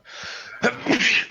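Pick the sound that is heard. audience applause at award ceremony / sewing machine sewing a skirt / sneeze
sneeze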